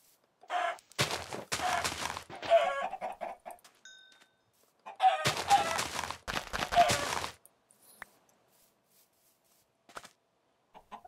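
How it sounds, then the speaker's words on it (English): Video game chickens cluck and squawk loudly in two noisy bursts separated by quiet, with a few faint clucks trailing off afterward. "There are chickens here."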